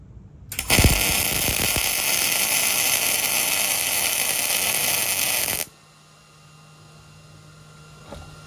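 MIG welder running at a higher wire speed, a loud, steady crackling buzz that starts abruptly and holds for about five seconds before cutting off, leaving a quiet hum.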